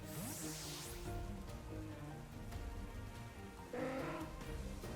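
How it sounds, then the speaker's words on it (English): Rain weather effect in a Pokemon battle game, a dense steady patter of falling rain under game music and chimes, loud and continuous with a brief swell near the end. "Starts to rain."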